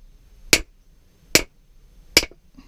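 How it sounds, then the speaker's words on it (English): Three sharp, separate hammer taps on metal ring out at steady intervals, close and loud against near silence, during the restoration of a found rounding hammer. "And the other hammer pressed into service."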